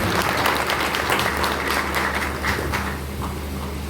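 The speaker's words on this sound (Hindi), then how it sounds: "तो चाहूंगा एक बार जोरदार तालियों से उनका स्वागत और सम्मान करें।" Loud, sustained applause from an audience at a Kargil commemoration event in a Faridabad temple, dense clapping that stays strong and tapers only slightly toward the end.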